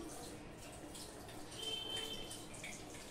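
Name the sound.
pouring biryani gravy from above onto the rice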